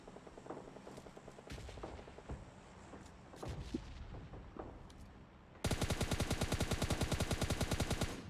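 Gunfire in PUBG Mobile: scattered single shots and short bursts at first, then a loud, rapid, sustained automatic burst that fills the last few seconds, with no one speaking.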